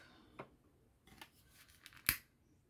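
Scissors cut paper for a scrapbooking card, giving a few quiet, separate snips, with one sharper, louder snip near the end.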